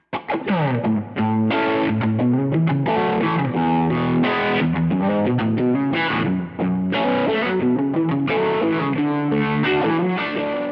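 A loud, distorted electric guitar plays a busy rhythm part with shifting chords and quick riffs, continuous and driving with no talking.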